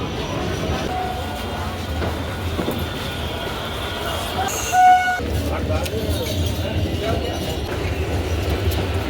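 A train pulls into a station platform, a steady low rumble of the carriages with a brief sharp screech midway, heard fairly close.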